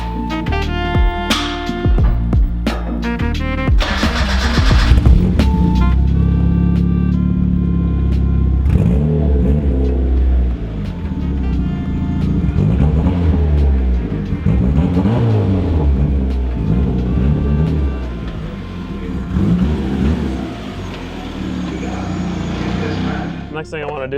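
A turbocharged high-compression 1.6L Mazda Miata drives off, its engine rumbling and revving up through rising and falling pulls, loud and close, with voices talking over it.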